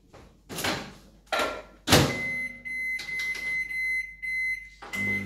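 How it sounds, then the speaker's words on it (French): A microwave oven is loaded to melt 100 grams of butter: a door clunks and keypad beeps sound, then a steady hum with a tone runs while it heats. "on va fondre nos 100 grammes de beurre au micro-ondes"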